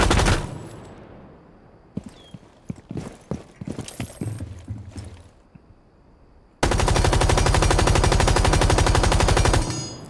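Gunfire from the video game Rainbow Six Siege: scattered sharp shots give way to a loud, sustained burst of automatic fire that runs without pause to the end, with no talking.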